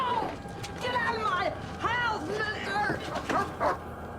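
A dog barking and yipping in a dramatic TV scene, several sharp, uneven barks and whimpers across a few seconds, mixed with voices and background sound.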